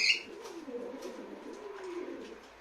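Tumbler pigeons in a coop give soft, low cooing calls that carry on steadily and close by, with a brief higher chirp at the start and no talk.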